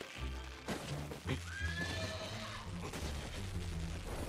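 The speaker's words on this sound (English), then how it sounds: "Poor horse." A horse in an anime episode of Vinland Saga lets out a loud, wavering whinny that rises and then falls, over low rumbling background sound and thudding hooves.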